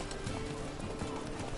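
Hooves clip-clop in a steady galloping rhythm as a horse runs in The Witcher Wild Hunt video game, at moderate volume under a continuous bed of game ambience.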